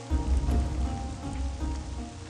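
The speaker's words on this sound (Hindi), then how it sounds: "पता भी है कि इतनी बारिश हो रही" Heavy rain falls steadily on surfaces nearby, a dense continuous patter with a low rumble beneath it and no voices.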